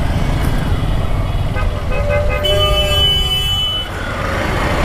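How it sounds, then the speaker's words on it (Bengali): Car horns honk in a rainy roadway traffic jam while riding, several short toots and a longer held horn sounding over steady engine and road rumble, with no talk. "জ্যামও শুরু হয়েছে, দুইটা একসাথে।"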